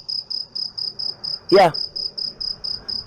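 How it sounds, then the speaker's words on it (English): Crickets chirp in a steady, fast pulsing rhythm, a continuous high trill heard up close, briefly interrupted by a short spoken word partway through. "sounds like crickets to me."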